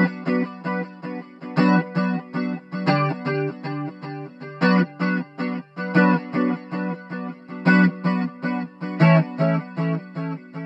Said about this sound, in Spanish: lo que le da esa onda rítmica es el delay que utiliza